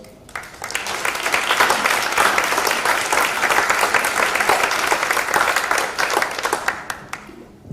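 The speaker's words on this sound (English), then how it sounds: "let's give our panelists a big round of applause" A conference audience gives the panelists a big round of applause, dense clapping that swells in quickly, holds loud and steady for several seconds, then thins out and stops near the end.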